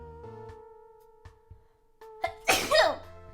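A single sharp, breathy sneeze bursts out near the end, loud and close, after a stretch of quiet steady tone with a few faint clicks.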